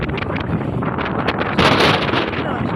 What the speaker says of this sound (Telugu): పడుతుంది గాలి వేస్తుంది